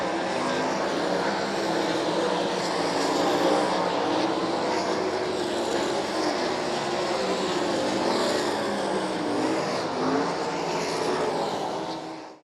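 Sprint race cars roar around a dirt track at 34 Raceway during a heat race, a dense sustained engine howl that swells and fades as cars pass, loud and continuous before dropping off at the end.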